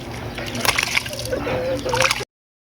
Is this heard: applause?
no